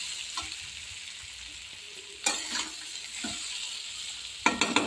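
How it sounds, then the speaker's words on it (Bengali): Chickpeas and potatoes fry and sizzle steadily in a pan while a spoon stirs them, with a few louder scraping bursts of stirring standing out against the constant frying hiss; no one speaks. "ছোলা আলু ভাজাটাকে আমি নেড়ে দেবো।"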